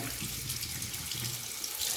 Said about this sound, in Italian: Ora andiamo a sciacquare anche all'interno.